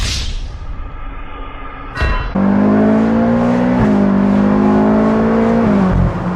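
A Ferrari California's engine drones loudly and steadily under acceleration while driving on the road, a short gear-change break interrupting the smooth, sustained tone before it resumes and holds.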